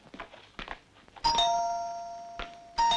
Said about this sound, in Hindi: अशोक का घंटी है